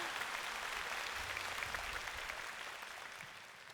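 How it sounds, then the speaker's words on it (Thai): Applause from a concert audience at a Thai charity concert, a steady dense wash of clapping that stays loud and continuous throughout, then eases slightly toward the end. "ขอเสียงปรบมือด้วยนะคะ"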